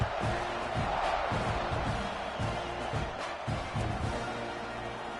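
A stadium crowd cheers and roars in the EA College Football 26 video game. The noise is a steady, dense wash of cheering voices with rhythmic swells throughout.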